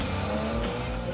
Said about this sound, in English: Turning the ignition key not only starts the boxer engine in the rear